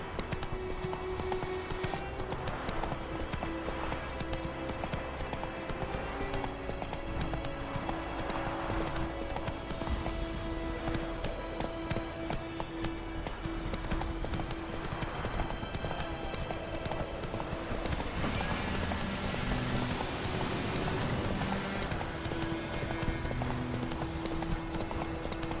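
Hoofbeats of a horse galloping in The Witcher video game, a steady rapid clip-clop running through the whole stretch with occasional brief whinnies, layered over game music and ambience with no talk.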